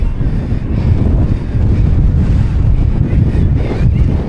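Steady, loud wind buffeting the microphone outdoors in woodland, a continuous low roar with gusty swells and no pauses.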